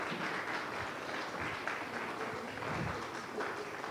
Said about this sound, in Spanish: Le damos un aplauso a ella.